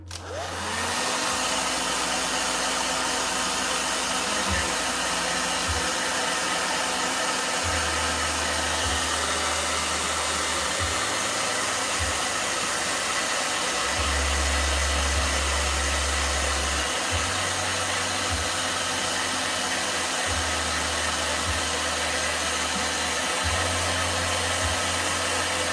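A hair dryer runs steadily and loudly for the whole stretch, used to dry Winsor & Newton watercolor paint on paper in a hair journal, with a constant airy roar and low hum shifting slightly as it moves.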